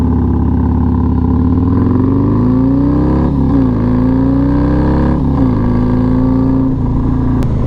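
A motorcycle fitted with a Bassani exhaust and an S&S 475 cam pulls hard under acceleration, its deep engine note rising through the gears with brief dips at the shifts, loud and close, heard from the rider's position.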